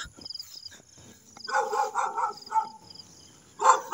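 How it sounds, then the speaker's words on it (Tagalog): A dog barks in short, sharp bursts at a middle distance, with a pause between volleys and no talking. "Dito may aso pa, ingay."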